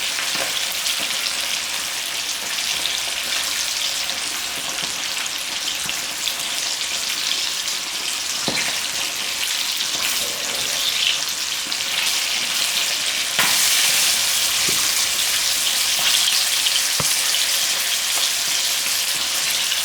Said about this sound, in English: Go fry them for about 2 to 4 minutes.